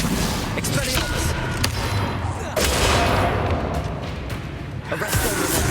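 Spell combat in the Hogwarts Legacy video game, with Expelliarmus casts flying: a dense, continuous clatter of magical blasts, whooshes and booms that stays loud throughout and swells again midway.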